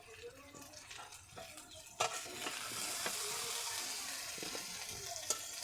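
Potatoes fry plainly in oil in a kadai while being lifted out, giving a steady close sizzle with light stirring scrapes and a sharp metal clack partway through.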